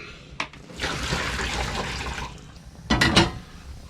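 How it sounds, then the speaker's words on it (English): Boiled potatoes are tipped into a colander in a narrowboat galley kitchen, the water pouring out in a steady gush for about two seconds, then a clattering splash near the end. "So we're going to drain those into the colander."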